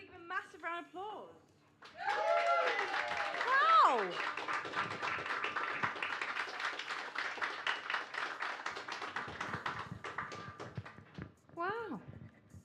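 A crowd at a live music event, Moving Voices, August 2022, breaks into a long stretch of applause and cheering lasting about eight seconds, with a singing voice briefly over the start and someone exclaiming and talking as it fades.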